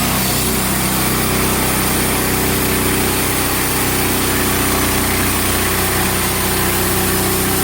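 A sawmill cutting a hemlock beam down into a one-inch board, a loud, continuous engine drone with a steady whining saw, sustained throughout with no talk.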